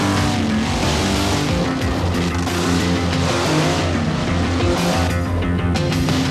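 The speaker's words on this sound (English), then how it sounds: "it's time for the trucks to pair off and drag race" Monster trucks drag racing at a 1991 event roar with loud, close engines, the pitch sweeping up and down as they accelerate and pass, with a steady wall of mechanical noise.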